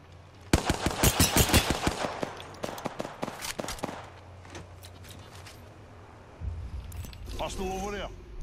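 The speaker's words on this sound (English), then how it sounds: "Firing." Rapid bursts of automatic gunfire in Apex Legends, a fast stuttering volley of close shots followed by sparser single rounds, then quieter game sounds and a voice.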